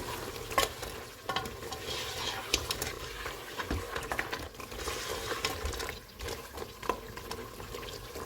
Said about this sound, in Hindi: इनको 3 से 4 मिनट तक भूनेंगे।